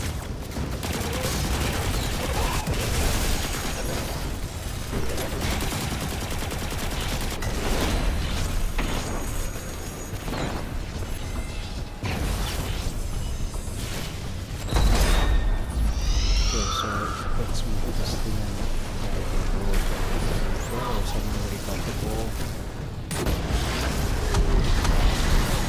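Gunfire and explosions from a Destiny 2 public event: dense, continuous weapon fire with bursts and booms, loud and busy throughout, with a voice briefly over the battle.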